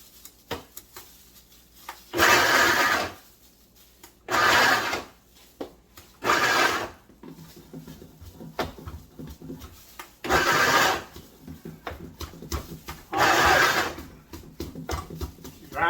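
A blender set to medium speed grinds Fresno red chili peppers for a fermented Louisiana-style hot sauce mash, in five or six loud, rough whirring bursts separated by quiet gaps.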